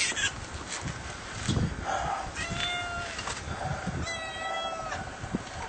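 A cat meows and yowls repeatedly while having its rear shaved, loud and close, with short complaining cries over a steady buzzing background.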